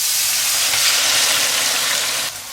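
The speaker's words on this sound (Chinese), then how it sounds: "我们在锅里把这个西红柿给它炒出汤汁儿" Chopped tomatoes and their juice sizzle and hiss steadily in a hot wok as they are stir-fried, a loud, continuous close frying noise with no voices.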